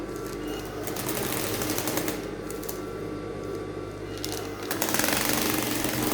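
Sewing machine stitching a fabric basket weave design, a steady close mechanical whir running continuously throughout, fairly faint with a slight surge near the end.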